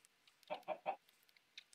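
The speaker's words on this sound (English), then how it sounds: "But let's find chickens, I guess." Chickens in Minecraft give three quick, close clucks in a row, followed by a few faint short chirps against a quiet background.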